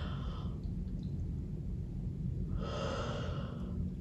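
A person demonstrates a yawn: a short breathy exhale, then a longer, fuller drawn-out yawning breath a couple of seconds later, close and clear over a low rumbling background, with no speech.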